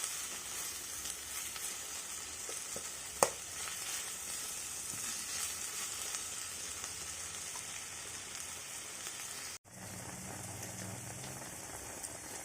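Ginger garlic paste fries in a pan for a jackfruit seed and drumstick curry, giving a steady, even sizzle throughout with one sharp tap partway and a brief break near the end.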